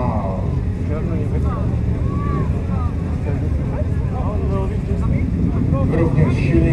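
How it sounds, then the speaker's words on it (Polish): A deep, steady one-litre V-twin motorcycle engine with an aftermarket exhaust rumbles throughout while a person talks over it; the engine runs evenly without clear revving. "Kolejny akcesoryjny układ wydechowy"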